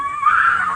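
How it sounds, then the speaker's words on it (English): A strange, drawn-out scream in the middle of the night, heard as a single rising and falling high wail lasting under a second, fairly close and loud. "This footage was recorded by a man who was woken up by strange screams in the middle of the night."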